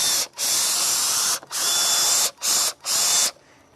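A power drill bores into a tree trunk during tree cabling work near a decayed area. The motor whines loudly in four sustained bursts with brief pauses between them, then cuts off.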